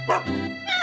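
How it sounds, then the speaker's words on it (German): A dog gives a short, close bark and yelp in a cartoon scene, with a brief whimpering tone following. "Der Kläffer macht nichts als Ärger."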